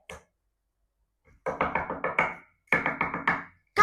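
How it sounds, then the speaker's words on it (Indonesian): Heavy, urgent knocking on a door comes in two quick bursts of several loud raps each, followed by a single sharp bang at the end, with silence in between. "Ini ketukannya jauh lebih kenceng,"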